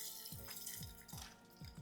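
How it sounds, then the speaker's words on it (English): Beef stock pours into a stew pot in a faint, close, liquid trickle with small repeated glugs. "Gonna add my beef stock"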